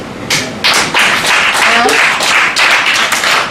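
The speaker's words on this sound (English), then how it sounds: "how many people here, by a round of applause, have had a really awkward sexual experience" Comedy club audience at a Richmond, Virginia cafe comedy night giving a round of applause, a scattered clatter of claps in irregular bursts with cheers and voices mixed in, fairly close and loud.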